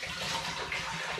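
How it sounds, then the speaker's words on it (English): Spring water is poured from a bottle into a large pan holding tea bags, making a steady, soft splashing gush at close range, with no voices. "I'm going to add into this at this stage 4 litres of spring water."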